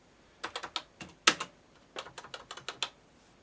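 Keys tapped on a Tandy CoCo 2 home computer keyboard, a quick run of sharp clicks in irregular clusters, one louder strike standing out, close and clear with no voices.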